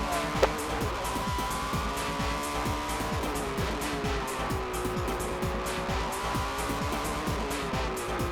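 A Honda NSX race car is driven hard at the limit on a circuit, its engine a loud sustained whine with repeated rapid gear changes and rising revs, heard from close range with no talk.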